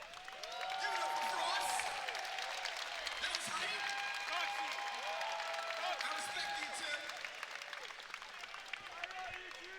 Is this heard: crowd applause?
yes